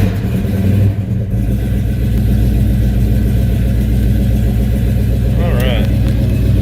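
A 1970 Chevrolet Chevelle SS 396 muscle car engine runs close by, a steady loud rumble that rises briefly near the end as it revs, with a voice speaking over it.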